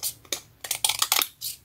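Scissors cut out a paper title for a scrapbook recipe page, giving a series of crisp, close snips and rustles at an irregular rhythm.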